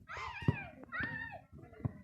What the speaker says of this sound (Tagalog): Taba yan aso namin.